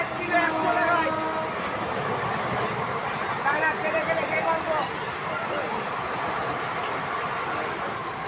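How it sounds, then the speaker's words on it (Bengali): The Sealdah–Ballia Express, train 13105, crosses past a moving local train near Debipur station, a continuous loud rumble and clatter with a faint horn, people talking over it. "শিয়ালদা বালিয়া এক্সপ্রেস ক্রস করছে এখন"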